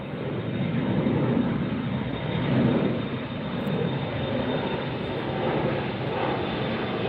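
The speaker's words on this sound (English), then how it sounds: "Double takeoff again." Two airplanes take off together at LAX airport, a loud continuous broadband jet roar that swells slightly and holds steady throughout, heard from fairly close with no talking.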